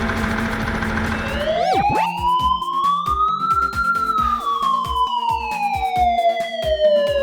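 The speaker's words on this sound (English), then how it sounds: "Ambulance, a special van that helps sick or injured people get to the hospital." A wailing emergency siren, taken as an ambulance siren, sweeps up and then slowly down in pitch, loud and close over a rhythmic, pulsing background engine or toy-like clatter.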